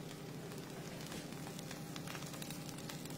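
Stuffed potimarron (red kuri squash) crackling hot from the oven, a steady dense sizzle and fine popping, close and continuous with no talk.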